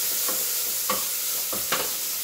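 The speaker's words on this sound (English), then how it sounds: "So I'm going to go ahead and add that 1 onion in. And we're going to let that cook for a second." Chopped onion cooking in olive oil in a pan, a soft continuous sizzle broken by a few brief scraping stirs, close and alone with no talking.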